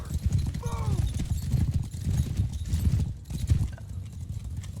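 Horse archers gallop in the Mount & Blade 2 Bannerlord video game, their rapid, dense hoofbeats drumming steadily under battle noise, with a brief whinny-like cry early on and faint voices in the mix.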